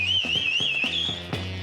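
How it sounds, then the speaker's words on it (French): A shrill whistle, blown to warn prison inmates, trills loudly with a wavering pitch over a low rhythmic thumping background. "Siffle pour prévenir les détenus."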